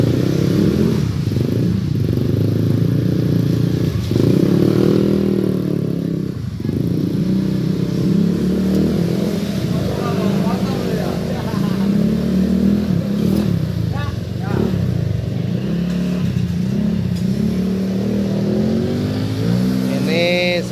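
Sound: Yamaha Vega R motorcycle revving with PGA exhaust

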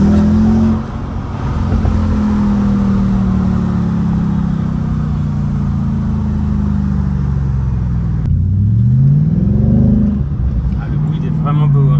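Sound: Audi S5 engine revving

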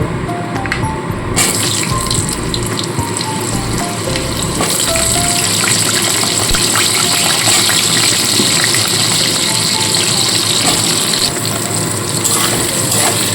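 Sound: cut potatoes added to pan, frying

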